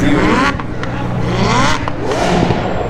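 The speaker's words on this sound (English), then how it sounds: "That Aventador is so loud." A Lamborghini Aventador engine revs loudly at an outdoor Caffeine and Octane car meet, with repeated rising and falling surges and crackles, close and dominant over the crowd.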